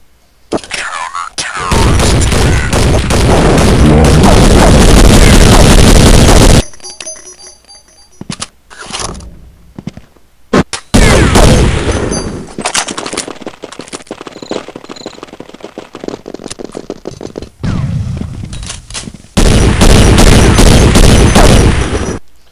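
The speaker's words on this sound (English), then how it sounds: "I know that gentleman with the AK was shooting at the ladder" AK rifle fire in a video game, with long bursts of loud, dense gunfire and a few shorter volleys between stretches of quieter game noise.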